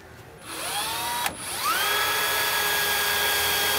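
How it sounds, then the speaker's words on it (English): A power drill with a half-inch bit spins up and bores a hole during the mounting of nerf bars on a 2023 Ram 2500 pickup. A loud whine rises in pitch, dips briefly, then holds steady. "I'm going to drill a pilot hole and then follow that up with a half inch drill bit for our final"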